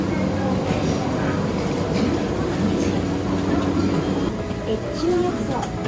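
Train rumbling and clattering along a station platform, a steady dense roar of wheels and carriage noise with faint voices and a platform announcement mixed in.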